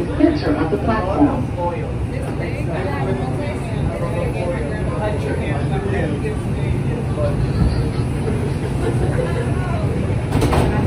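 A Brooklyn-bound 2 train on the New York City subway runs with a steady rumble and a rattling clatter that carry on throughout, with a voice speaking over the noise.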